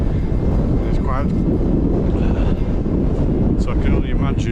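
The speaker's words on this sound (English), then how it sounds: "It's way too windy." Strong gusty wind buffets the microphone on a Scottish mountain hike near Glencoe, a loud constant roar, while someone talks over it.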